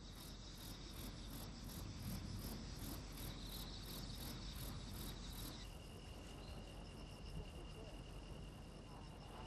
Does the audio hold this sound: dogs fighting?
no